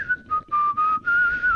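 A tabletop role-playing gamer whistles to imitate a blown whistle: a few short, clear, high bursts, then one long sustained tone, close and loud with no talking.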